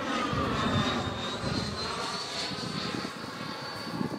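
An AeroFoam T-45 model jet makes a low pass, its engine a steady, loud whine with a high tone that holds throughout and sits close by, with no talk over it.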